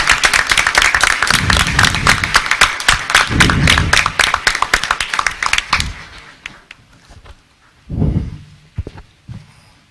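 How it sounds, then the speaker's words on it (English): A school board meeting audience claps in dense, steady applause that fades out after about six seconds, leaving a few scattered sounds and a short low rumble. "I think they all of you deserve a big round of applause."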